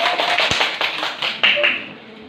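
Applause from a classroom of students for group 1, a burst of fairly close, dense clapping lasting a couple of seconds with a voice speaking over it near the end.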